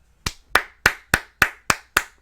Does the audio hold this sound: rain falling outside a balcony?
no